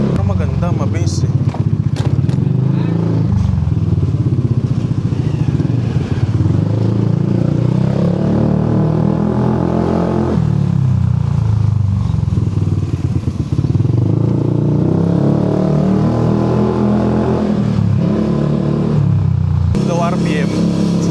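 A Yamaha NMAX V3 scooter fitted with an RS8 Redlak exhaust revs loudly and steadily up close, its engine note rising and falling through the whole stretch while people talk over it.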